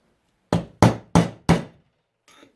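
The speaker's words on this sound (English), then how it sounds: "I just upgraded the hammer to something with a bit more momentum" Hammer striking a part on a 1990 two-door Range Rover during a left-to-right-hand-drive conversion: four sharp, evenly spaced metallic knocks, each ringing briefly before the next, then a faint rustle.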